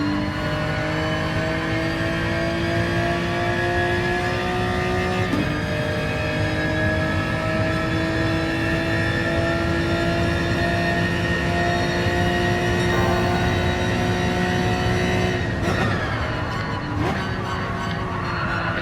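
A Hyundai Genesis race car engine in a racing video game, droning steadily at high revs for the whole stretch, with a brief pitch shift as the car changes gear and no talk over it.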